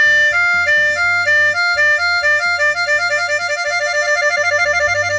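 Harmonica draw 4-5 trill, a bright, loud wavering tone shaking rapidly back and forth between holes 4 and 5, played alone and close, with a steady pulse that quickens toward the end.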